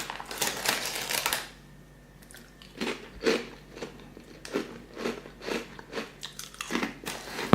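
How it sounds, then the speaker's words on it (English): Crunchy snacks from Germany being bitten and chewed close to the microphone, a series of sharp, loud crunches in an irregular rhythm across the clip, with no talking. "we need to try some snacks from Germany"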